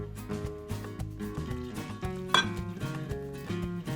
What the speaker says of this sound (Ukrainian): Тепер необхідно все це перемішати, щоб отримати однорідне тісто.